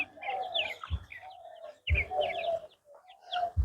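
Chickens being handed out to people, giving close clucks and short squawking calls in repeated bursts with low thumps between them.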